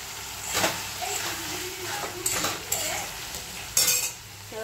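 Spoon scraping and clinking in a pan as ground cumin and turmeric are stirred into cooking for a mustard-oil prawn dish, several distinct metallic scrapes over a soft low background.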